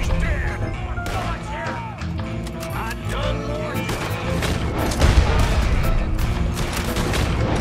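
Rifle gunshots in Red Dead Redemption 2 ring out amid dense game music and effects, several sharp cracks scattered through a loud, busy mix, with a voice talking over it.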